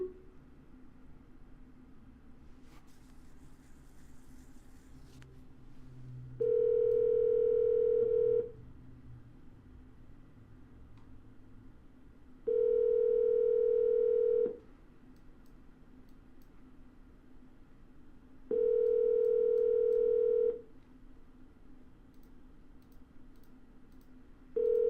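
A telephone line plays a steady pure tone in three long beeps of about two seconds each, spaced roughly six seconds apart, with a faint hum and clicks between them and no talking.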